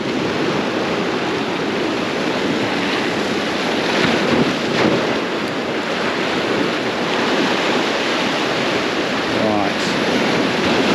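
Ocean waves wash over coastal rocks, churning white water in a continuous loud roar, with wind buffeting the microphone throughout.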